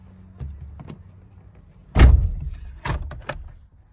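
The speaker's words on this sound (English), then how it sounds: "Close your door." A car door thuds shut with a solid slam, followed by a lighter click and some rustling nearby.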